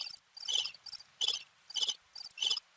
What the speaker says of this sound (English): Nothing but pure crickets.